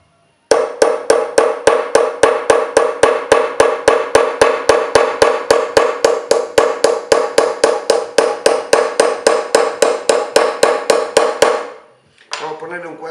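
A hammer tapping a chisel in metal chasing, struck in a fast, steady run of about forty crisp, ringing blows that stop abruptly near the end, close and loud.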